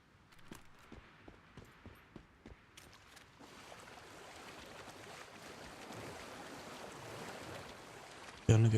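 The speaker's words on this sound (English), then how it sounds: "Gonna go swim up the waterfall." A waterfall in the game New World rushes as a broad, steady wash that swells gradually louder after a few soft clicks at the start, ending with an abrupt louder thump.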